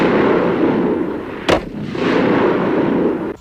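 A caseless ammunition rifle fires one sharp, loud salvo burst midway through, standing out over a steady background of broadband noise and rumble.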